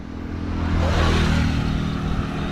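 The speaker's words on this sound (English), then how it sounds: "Lots of motorbikes." Motorbikes on a road in Vietnam, passing near rubber plantations, give a steady close engine drone with a rising rev that stays loud throughout.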